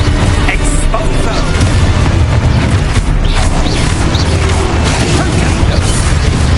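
A loud, sustained magical blast from the Exposo explosion spell in Hogwarts Legacy, a dense booming rumble with crackling debris filling the whole stretch, close and heavy.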